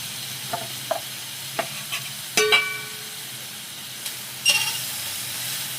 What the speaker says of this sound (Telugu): కొంచెం ఆయిల్ వేసుకొని టమాటా మగ్గ పెడదాం.